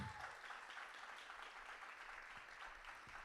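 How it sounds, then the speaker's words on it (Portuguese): A church congregation applauds in a continuous, even patter of many hands, quiet and somewhat distant, with no break in the clapping. "Vamos aplaudir, gente?"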